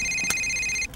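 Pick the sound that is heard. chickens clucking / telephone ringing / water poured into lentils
telephone ringing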